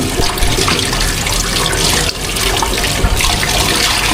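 Water runs steadily and loudly at a rainforest campsite in Tanay, Rizal, as people wash up, a continuous close splashing rush with no pause.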